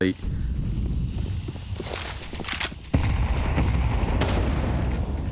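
Grenade explosions in a Counter-Strike match at a professional esports league game: a sudden loud blast lands near the middle, set against constant game noise of gunfire and footsteps, with a voice present in the mix.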